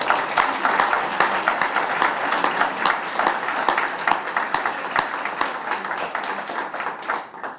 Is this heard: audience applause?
yes